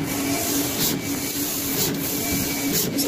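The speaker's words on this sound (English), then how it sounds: "This is the printing stage test for the printer." A sublimation printer runs steadily with a continuous mechanical whir and scraping hum, broken by a few soft periodic swishes as the print head moves back and forth.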